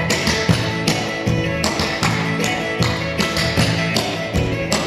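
Clogging dance steps on a floor: quick, rhythmic taps and shuffles repeating in steady bursts, loud and close, over continuous background music.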